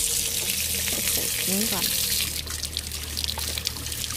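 Cold spring water runs steadily from a tap at a popular spot in Banite, Bulgaria, a close continuous hiss and splash heard under a brief spoken exchange.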